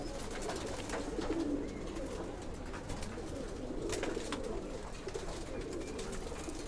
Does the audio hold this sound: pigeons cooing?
yes